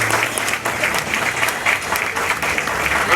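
Audience applause at a medal ceremony for a national order honour, a dense, steady wash of many hands clapping throughout, loud and close, with no pause.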